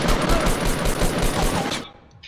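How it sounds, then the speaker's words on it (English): Rapid assault rifle fire in a video game: loud, close automatic bursts in a tight, steady rhythm for about two seconds, then cutting off to quieter background game sound. "Can you see someone shooting? That's me. Look, yeah, I got an assault rifle."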